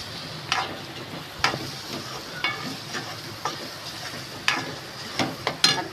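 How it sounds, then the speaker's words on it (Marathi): Masala sautéing in hot oil for an egg tikka masala, a steady soft sizzle broken by sharp clicks and scrapes of a spoon stirring against the pan every second or so, with no talk. "मसाला पण तेलामध्ये परतून घेते."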